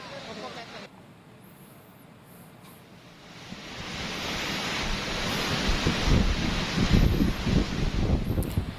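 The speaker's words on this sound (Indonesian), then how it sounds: "Ombak yang masih tinggi jadi kendala pencarian hari ini." Ocean waves at Drini Beach surge and crash close by, building from a soft wash into heavy, rumbling surf with wind noise across the microphone, while a voice talks over it.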